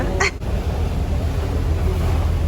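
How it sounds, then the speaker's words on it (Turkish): A seagull near a ferry where birds are being fed lets out one brief squawk at the start, over a loud, constant wash of engine and water noise. "Bakalım Efe martıları doyurabilecek mi?"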